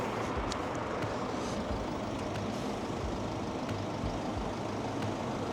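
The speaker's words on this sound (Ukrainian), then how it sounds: "давайте глянемо, як працює пневмопідвізка. Натискаємо ось цю кнопку і виходимо. І тепер дивимося, як вона буде підніматись." Air suspension on a Mercedes GLC 300d Coupe pumps up to raise the car, a steady droning compressor hum that runs unbroken throughout, with a few faint clicks on top and no voices.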